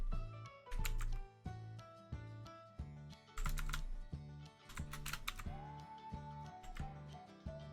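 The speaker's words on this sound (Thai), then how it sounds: "ทำไมเราชอบไปโดนคีย์บอร์ดจังเลยนะคะ" Quick keystrokes on a computer keyboard during spreadsheet data entry, sounding as scattered clicks under steady background music, with no talking.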